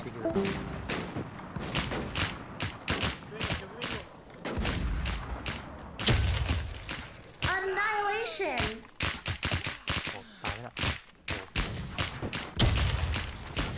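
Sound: gunfire in a video game (RedDeadZ)

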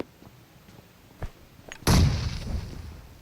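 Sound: grenade explosion in PUBG Mobile video game

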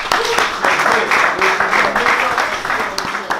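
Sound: audience clapping

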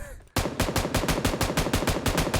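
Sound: spray of automatic gunfire in a video game

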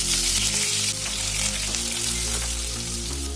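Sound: onions frying in oil with spices

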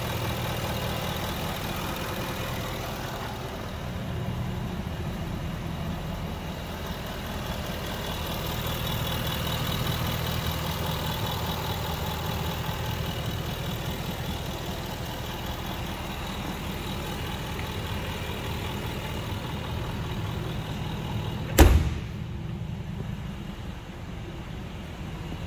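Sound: Jaguar XK V8 engine idling

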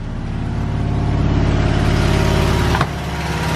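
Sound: Fiat Cinquecento 700 engine with Fiat 126p carburetor revving

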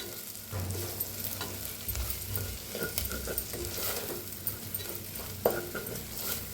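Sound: turmeric and red chili masala being stirred and roasted in pan

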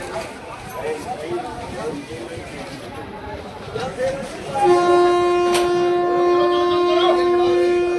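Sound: train at station about to depart

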